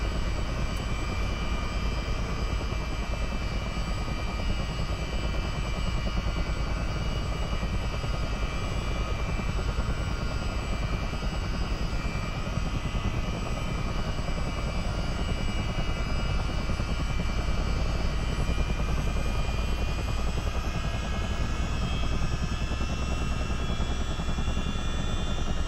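A CH-47 Chinook helicopter's engines running in Microsoft Flight Simulator, a loud, constant turbine drone with rotor thrum that holds steady from start to finish.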